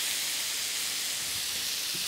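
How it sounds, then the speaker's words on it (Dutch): Courgette and other vegetables stir-fry in a pan over high heat, giving a loud, continuous sizzling hiss close by with a few faint clinks, and no voices. "Dus blijf op hoog vuur roerbakken."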